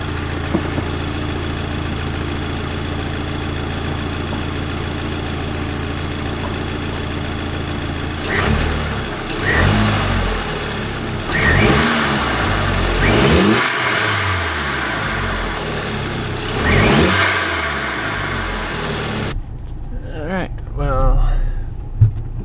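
A Mark V car fitted with a cold air intake idles with a steady drone, then is revved several times in rising and falling bursts, loud and close.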